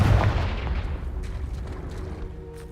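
A Confringo blasting spell cast in the video game Hogwarts Legacy, opening with a heavy explosive boom that rumbles on and slowly fades over about three seconds.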